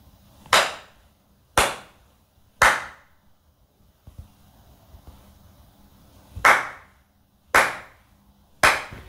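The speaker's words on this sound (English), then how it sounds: "If your room has a large amount of echo, you're going to hear the clap bounce off and come back to you." Single hand claps in an empty, echoey room, six sharp claps in two groups of three, each followed by a ringing tail of reflections that slowly dies away.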